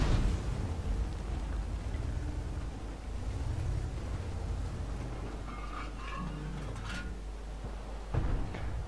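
Artillery shells exploding in the tank game World of Tanks, heavy booming rumbles rolling through a dense low-end battle din, with a sharper blast near the end, loud and close.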